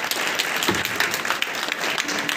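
Audience applause at a school farewell party, a dense, continuous wash of many hands clapping together in a hall, loud and steady with faint crowd noise.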